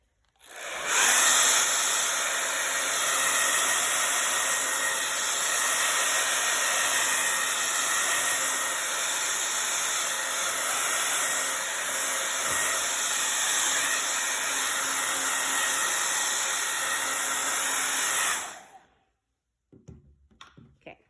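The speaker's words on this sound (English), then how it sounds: "I'm going to blow this dry" A hair dryer blows paint dry on a painted surface, a steady loud hiss and whoosh running unbroken for about eighteen seconds before cutting off, leaving faint handling noises.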